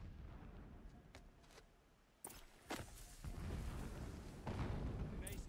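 Blasting explosions in Horizon Zero Dawn, a few sharp distant booms followed by sustained rumbling blasts, with game ambience underneath.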